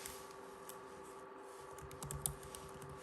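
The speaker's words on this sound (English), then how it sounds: "I'm not typing properly." Typing on a computer keyboard gives a few faint, sparse clicks over a steady background hum in a quiet indoor room.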